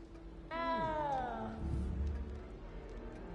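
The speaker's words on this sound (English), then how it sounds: "You don't need to be frightened, little cat." A cat in Hogwarts Legacy gives one clear, drawn-out meow that slides downward in pitch, heard close over a soft game-ambience hum.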